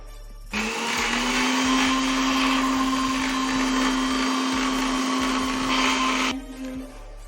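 A mixer grinder whirs at high speed grinding the masala for chicken varuval, a loud steady whine starting abruptly, holding for about six seconds and then stopping.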